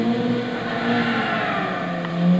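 A Ford RS200 turbo Group B rally car with a mid-mounted engine and all-wheel drive, revving in Gran Turismo 6, a loud steady engine drone that rises slightly toward the end, with no talk over it.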